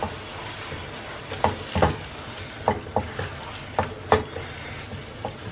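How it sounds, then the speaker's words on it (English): Aubergine curry being stirred in a frying pan: a steady low sizzle runs throughout, broken by a handful of irregular scraping knocks of the spoon against the pan, close and moderately loud, with no talking. "Give it a good mix."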